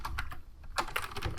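Code typed on a computer keyboard comes through as close, quick bursts of key clicks with a short pause midway, then a faster run of taps.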